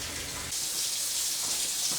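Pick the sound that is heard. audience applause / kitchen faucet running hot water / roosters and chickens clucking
kitchen faucet running hot water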